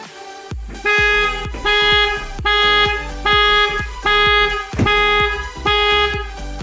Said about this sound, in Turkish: hem görsel hem sesli olaraktan e, alarm geri bildirim vermekte.